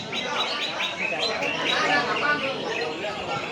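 Bright, rapid green leafbird song with varied chirps and trills fills the clip, fairly close and continuous, with faint background chatter at a bird contest.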